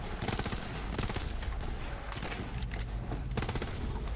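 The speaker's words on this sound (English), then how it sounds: "I'm just gonna keep shooting him in the face or top of the God" Sustained rapid gunfire in Borderlands 3, with fast repeating shots and overlapping blasts forming a dense, loud, unbroken stream.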